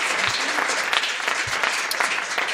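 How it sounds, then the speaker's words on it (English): A seated audience at a health insurance panel discussion claps steadily for the panelists, dense continuous applause filling the room from start to finish. "Can we have a round of applause for the panel?"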